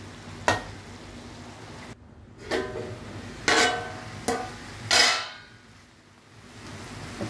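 Cabbage and carrot with grated coconut cooking in an open pan, giving a low steady sizzle broken by several sharp clinks and scrapes of a spoon stirring against the metal.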